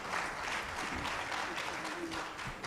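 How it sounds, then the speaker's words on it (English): Attendees at an annual general meeting applaud, a continuous, even wash of many clapping hands at moderate volume with no pauses across the short stretch. "Clap for him now."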